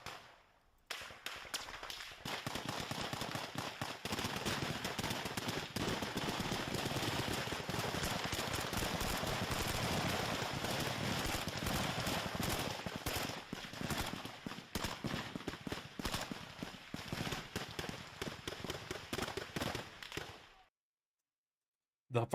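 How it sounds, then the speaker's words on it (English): Sustained gunfire during a large firefight in Kyiv, dense bursts and rapid cracks running almost without break for about twenty seconds, heard at a distance before cutting off abruptly. "The firefight was pretty large."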